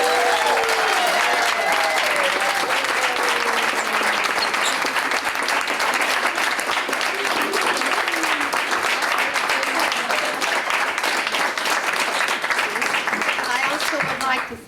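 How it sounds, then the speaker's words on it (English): A large school audience applauds students after their Christmas program, a loud sustained roar of clapping lasting well over ten seconds with some voices mixed in before it cuts off. "we would like to give a big round of applause to all the students and the work they did here"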